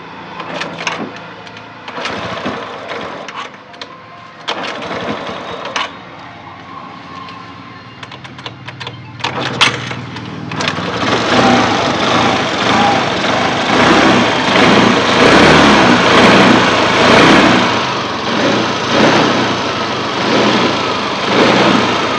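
A Suzuki Access 125 scooter with a weak battery sputters through several starting attempts, then catches and runs loud and close, its engine note rising and falling as it revs steadily for the second half.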